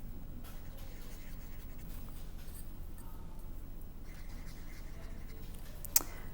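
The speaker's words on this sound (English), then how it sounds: "take your ceramic pot and your markers, and you are going to decorate your pot however you'd like" Marker drawing polka dots on a ceramic pot, faint soft scratchy strokes in short repeated bursts in a quiet room, with a single sharp tap near the end.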